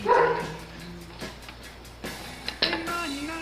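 A few muffled dog barks and yips sound from upstairs, heard distantly from a basement, spaced out over a few seconds with quiet room tone between.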